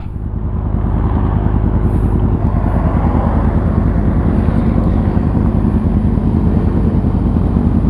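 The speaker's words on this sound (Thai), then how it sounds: "ติดเครื่องรอเลยนะ" A Kawasaki ZX25R motorcycle engine idles with a loud, steady, close rumble that holds evenly from start to finish with no speech over it.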